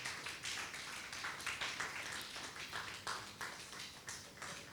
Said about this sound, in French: je vous prie d'accueillir avec des applaudissements nourris Monsieur Emmanuel Dabo.